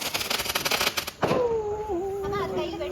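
Diwali firecrackers crackle in a rapid string of sharp pops that stops abruptly, followed by a rising whistle. Nearby voices are heard talking.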